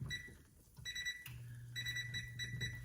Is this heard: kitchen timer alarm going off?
yes